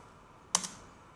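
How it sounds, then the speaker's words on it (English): Quiet computer keyboard keystrokes while entering a terminal command: just two quick clicks close together, soft against a faint background hum. "in there we need to type in the command ruby space webgui.rb"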